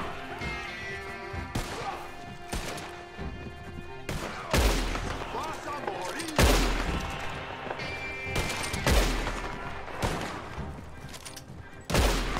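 Rifle shots ring out in Red Dead, several loud sharp cracks spaced a second or two apart, with background game music and sound effects between them.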